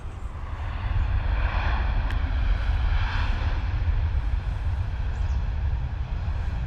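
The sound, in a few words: Ryanair airliner arriving from Rome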